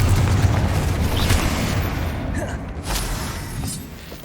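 A Confringo fire spell explodes in Hogwarts Legacy on PS5, a loud, sustained booming rumble with crackling debris that slowly fades over several seconds.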